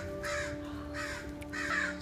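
Crows caw outdoors beside a small white house, three separate harsh calls spaced evenly over a low steady background hum, clear and fairly close, with no one talking.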